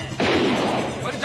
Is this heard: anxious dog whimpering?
no